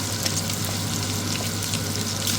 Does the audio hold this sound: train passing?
no